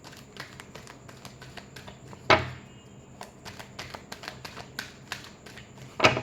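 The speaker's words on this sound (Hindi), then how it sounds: "Last shuffle." Tarot cards are shuffled by hand in a series of quick, crisp riffles and taps, with two louder flurries standing out, close and clear with no talking.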